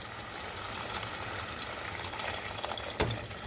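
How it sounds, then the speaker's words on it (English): Water poured into a pot of beef for tacos, a soft continuous splashing and trickling fill, faint and close, with a small clunk near the end. "you can also go ahead and add some water"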